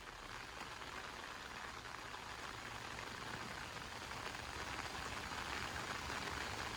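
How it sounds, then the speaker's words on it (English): Heavy rain pours down on a campsite while a Lance 1575 travel trailer is being set up for the first time, a dense continuous hiss of drops close by, steady and unbroken with no voices. "it's your very first time in your travel trailer and it's pouring down rain"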